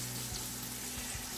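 Onions for biryani sizzle steadily in a pan at close range, a brief continuous frying hiss with a few soft low bumps; no voices.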